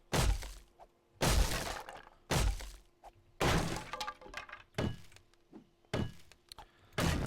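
Objects being smashed open in the video game 7 Days to Die: a series of heavy cracking, splintering breaks with glassy shatter, about seven loud, close impacts at uneven intervals, separated by short quiet gaps.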